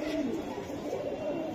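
Cooing of a racing pigeon of a named bloodline, heard at a loft sale in a soft, steady murmur that runs unbroken through the moment without talk.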